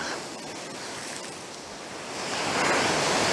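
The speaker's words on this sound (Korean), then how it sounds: "이 파도가 굉장히 크거든요." Ocean waves at Songjeong wash in with a broad hiss, swelling louder toward the end as big surf breaks close by, with some wind buffeting.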